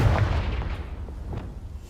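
A Confringo fire spell blast in Hogwarts Legacy, a heavy booming explosion with low rumble that rolls on and decays over about two seconds, with a couple of smaller crackling bursts inside it.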